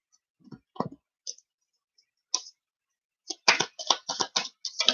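Tarot cards shuffled by hand in a few quick bursts, sparse riffles at first and then a denser run of crisp card flutters and slaps near the end, close and fairly clear with no talk.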